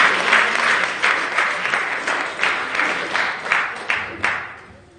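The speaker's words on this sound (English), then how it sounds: "Clap your hands." A church congregation applauds at a Sunday worship service, a dense wash of hand clapping with rhythmic surges that fade out near the end, no clear talking.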